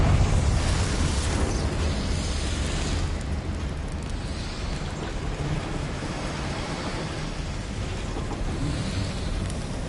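The Confringo blasting spell in the Hogwarts Legacy video game, heard as a loud, sustained roaring rumble like a dense explosion blast that holds steady for ten seconds with no voices.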